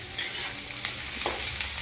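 Potatoes and cauliflower frying in a kadai, giving a dense close sizzle with a few quick scraping stirs of a spatula, alone with no voices.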